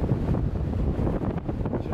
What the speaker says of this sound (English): Hopefully I'm out of the wind pretty quick